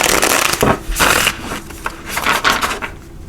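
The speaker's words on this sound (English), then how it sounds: "We'll use a little shuffle for these everyday tarot." A tarot card deck is shuffled by hand in a few quick bursts of riffling and sliding, close and fairly loud, with no talking.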